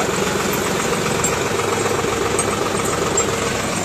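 A tractor engine idling steadily at a road accident scene in Begampur, a continuous low mechanical rumble with a knocking throb, close and loud, with no talk over it.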